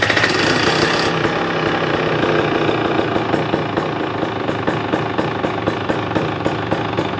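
A 2023 KTM 300XC two-stroke dirt bike engine fires up and runs steadily, a loud continuous rattling idle with rapid regular pulses close by, no talk over it.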